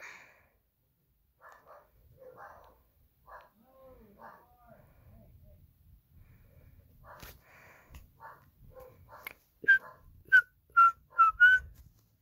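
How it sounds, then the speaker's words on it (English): A person whistles short tuneful phrases, quiet at first, then a run of louder, sharper notes near the end, with faint shuffling between. "I whistle a lot"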